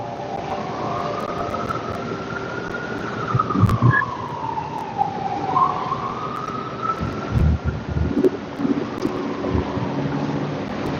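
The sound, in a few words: emergency vehicle sirens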